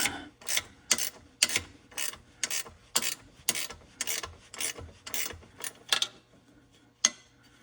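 A wrench ratchets on a bolt during catalytic converter replacement on an '11–'20 Grand Caravan or '11–'16 Town & Country, about a dozen evenly spaced rasping clicks in a steady rhythm, then a pause and one final click, close and fairly quiet.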